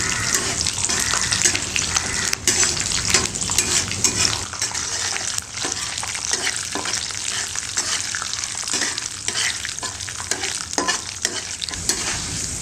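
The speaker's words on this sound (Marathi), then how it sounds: "इथे काजूगर घेतलेत काही तुकडे करून ते घालूया एक दोन मिनटं आपल्याला ह्याला परतून घ्यायचं आहे" Cashew pieces and urad dal sautéing in oil in a pan for lemon rice, a dense continuous sizzle with constant stirring and scraping throughout, loud and close with no talk.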